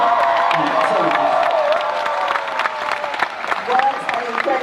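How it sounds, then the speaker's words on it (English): An audience at the 2023 iKON Awards film and television ceremony applauds in a full, sustained round of clapping, loud and continuous, with scattered cheers mixed in. "Give a round of applause, ladies and gentlemen."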